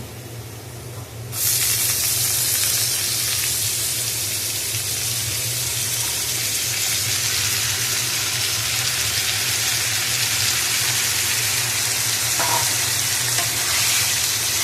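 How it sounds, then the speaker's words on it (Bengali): Soaked red lentils hit hot oil with fried onions, setting off a sudden loud, steady sizzle that hisses on continuously at close range. "এখন এর মধ্যে মুসুর ডালটা দিয়ে দিব।"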